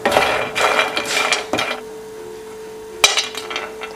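Fried sooji panjiri ingredients rattle and clink against a metal pan as they are tossed, a few bursts of scraping and knocking close up, then a quieter gap and one sharp knock.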